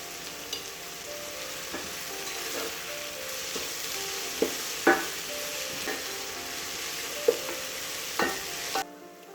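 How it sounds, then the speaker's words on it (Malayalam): Onions and ginger being stirred and sautéed in a pan, a continuous close sizzle broken by repeated scraping strokes and light spatula knocks, with no voices. "ഇഞ്ചി ഇതെല്ലാം ഒന്ന് നന്നായിട്ട് വഴന്ന് തന്നെ വരെ നമുക്കൊന്ന് ഇളക്കി കൊടുക്കാം"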